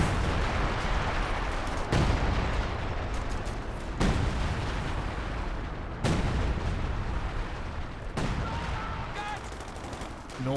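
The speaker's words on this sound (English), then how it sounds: "Major setting down the artillery on the base exit of Sormaple." An artillery barrage in a World War II real-time strategy game, with heavy booms landing about every two seconds over continuous battle noise and gunfire, loud and dense, with faint voices mixed in.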